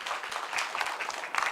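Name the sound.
audience applause welcoming a lecturer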